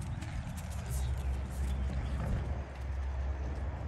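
A horse walks with hooves clip-clopping on the ground in a steady, moderately quiet rhythm, mixed with outdoor background noise and faint human voices.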